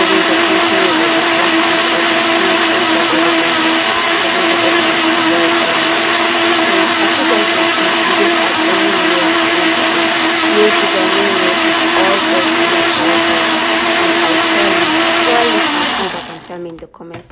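A blender runs continuously at high speed, whirring steadily as it spins oats into a milk-free, sugar-free smoothie, loud and close, then cutting off at the very end.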